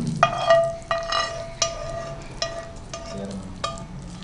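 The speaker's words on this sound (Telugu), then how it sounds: "ఇప్పుడు పెరుగులో ఈ పోపు." Hot tempering for dahi vada is poured into yogurt, followed by a spoon clinking repeatedly against the bowl in an uneven rhythm, with a faint sizzle underneath, close and fairly loud.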